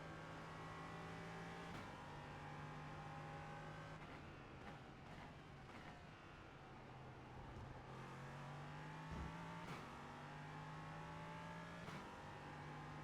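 An LMP3 prototype race car in iRacing, its engine droning and revving steadily through gear changes during a two-hour endurance race, with a few rising and falling pitch sweeps and no talking.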